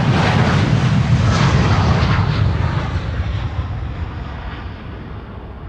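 A KLM widebody jet airliner departing Amsterdam Schiphol, a loud engine roar that is strongest at first and then gradually fades as the aircraft recedes into the distance.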